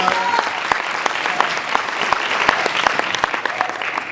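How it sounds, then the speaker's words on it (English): A conference audience at a leadership institute event claps in a dense, steady burst of applause, with sharp individual claps standing out through the broad, sustained noise. "Yeah, give her a round of applause."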